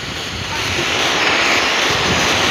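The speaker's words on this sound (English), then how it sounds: "An aeroplane up the sky." An aeroplane passes overhead outdoors, a loud steady broadband roar with no breaks, mixed with wind rumble on the microphone.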